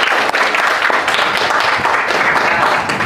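A class of eighth-grade students claps together in a school classroom, a loud, dense and continuous burst of hand claps close by, with a few voices mixed in.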